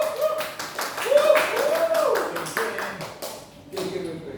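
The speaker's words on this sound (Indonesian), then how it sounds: "terima kasih buat tepuk tangan boleh ya" Scattered classroom clapping after a student's microteaching presentation, light, uneven taps running beneath a voice that talks over them throughout.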